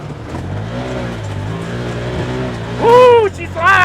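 A 2024 Can-Am Commander MAX XT-P side-by-side with a 100-horsepower V-twin, in high two-wheel-drive sport mode at full throttle, gives a steady loud engine drone that swells into a rising, whining rev near the end.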